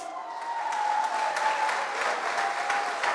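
Audience applause for Yves Joseph Fanfan of Tabou Combo at a memorial gathering in a catering hall in Hempstead, NY: thick, sustained clapping from a crowd, with a thin steady tone running beneath it.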